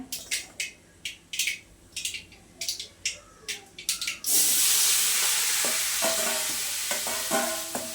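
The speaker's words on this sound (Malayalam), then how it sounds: "കടുക് പൊട്ടിയേ," Mustard seeds splutter in hot oil while cooking Kerala-style lunch, first a run of rhythmic scraping stirs, then a sudden loud, continuous sizzle with sharp crackling pops close by.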